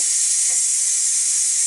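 A Ninja Foodi Deluxe pressure cooker vents steam after cooking a pot roast, a loud, steady, bright hiss that holds unbroken throughout.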